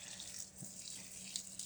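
Steady hissing rush of water flowing from the pump of an automatic remote-controlled garden watering system for vegetables, continuous and fairly soft with no voices.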